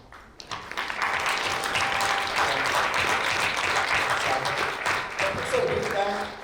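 An audience applauds the organizing team at a closed-door breakfast session, the clapping building quickly and holding steady for several seconds, with faint talk mixed in.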